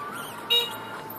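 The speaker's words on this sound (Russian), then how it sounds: "Сигналит, медленно я еду," Car horn from a vehicle behind a slow-moving car on a Sochi school street: one short toot over a steady road and engine hum, fairly faint and brief.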